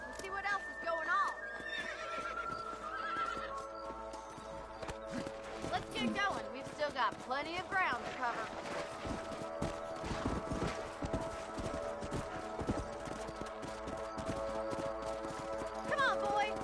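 Horses trot with rhythmic clip-clop hoofbeats and occasional whinnies in the Red Dead Redemption video game, the steady gait running throughout beneath a voice and background music.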